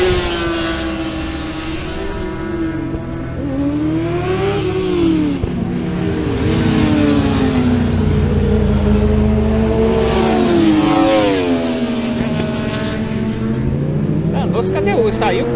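A loud Corvette race car engine roars continuously on the Road Atlanta track, its pitch climbing and dropping through repeated hard accelerations and gear shifts.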